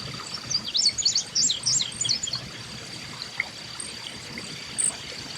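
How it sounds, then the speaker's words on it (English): A chipping sparrow sings in a few quick bursts of thin, high, rapid chips, fairly faint over a soft trickling stream, with a brief extra chirp near the end. "The chipping sparrow, number 5 on our list"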